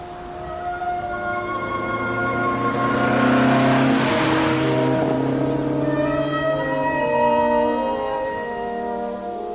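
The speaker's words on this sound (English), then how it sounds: "racing down the hill towards Cortina in hot pursuit of a group of 3 Porsche 356s from Spain" Three Porsche 356 sports cars racing downhill toward Cortina in the Dolomites during a rally, with a steady engine drone rising as the cars close in and pass, then slowly fading away.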